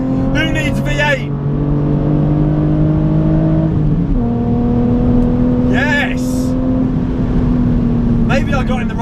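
A BMW Z4 driving fast on a race track, with a loud, sustained engine drone whose pitch drops and climbs through gear changes, heard from inside the car while someone talks over it.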